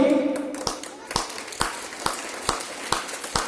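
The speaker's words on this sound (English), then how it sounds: "So please clap for him." Students at a school event clapping for a sitting chair competition winner, sparse, evenly spaced individual claps ringing out sharply in a reverberant hall, with some talk early on.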